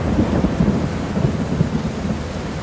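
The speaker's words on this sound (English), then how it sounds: "I'd like to point out it's pissing down with rain." Heavy rain pours steadily around a rider on his first big motorcycle, a dense, continuous roar with deep rumbling wind buffeting, loud and close with no speech.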